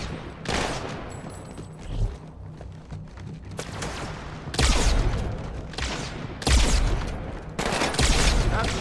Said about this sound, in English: That's some good shooting, Chief.